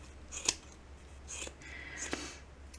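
Scissors trim a yarn pom-pom ornament with three quiet, separate snips spread evenly over a soft background hum.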